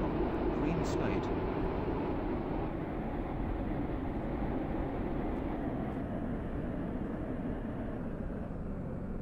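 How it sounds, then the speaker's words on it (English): A shuttle train on the WaterLine from Greenslade pulls into Benton station, a steady broadband rumble of wheels and carriage running evenly throughout, with a recorded announcement voice speaking over it. "This train is now approaching Benton."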